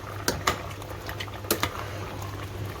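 Vegetable pasta boils in an uncovered pot with a soft, steady bubbling, broken by a few sharp pops and spits, and a low hum running underneath; nobody speaks.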